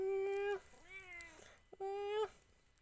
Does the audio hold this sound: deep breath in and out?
no